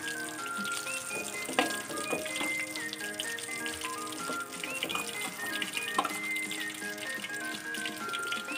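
Chicken kathi kebab pieces frying in hot oil until reddish brown, giving a steady crackling sizzle that runs throughout over soft background music.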